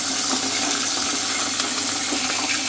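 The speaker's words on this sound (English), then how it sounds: "you can hear them sizzling now with the steam" Burgers sizzle in a pan with water added, giving a steady, loud, crackling hiss of steam and frying that continues throughout without speech.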